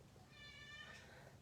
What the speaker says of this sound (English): now the cat's going to start.